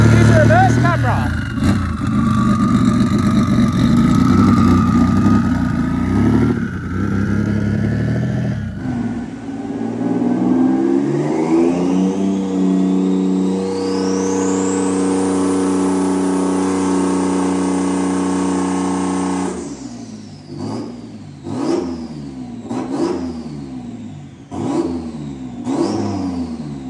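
A Nissan Patrol drift build with a big single-turbo VQ37HR engine revs up hard and holds high, then drops into a string of sharp, repeated blips, loud and close.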